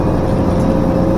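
Tractor engine running while making hay, a loud, steady low rumble with a rough, chugging texture, close and unbroken with no talk over it.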